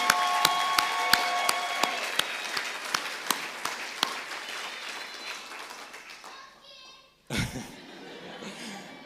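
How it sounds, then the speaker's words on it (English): Audience at an MBA graduation ceremony applauds the graduating class, loud steady clapping with distinct sharp claps up front, fading out before a brief burst of voices and a thump near the end. "Big round of applause."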